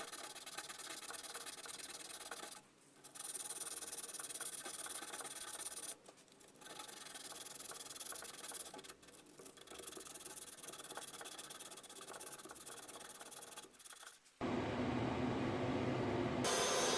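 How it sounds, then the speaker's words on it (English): Sandpaper rubbed by hand over rusty shunt rails on an old Miller Thunderbolt AC/DC welder, giving a steady, close, raspy scraping that runs continuously with a few short pauses. "I hit the shunt rails with some sandpaper for the more stubborn rust."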